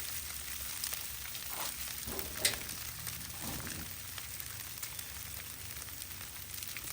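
Hashbrowns sizzle steadily on a Loco griddle, with a continuous moderate fry crackle throughout and a few louder scrapes or pops partway through.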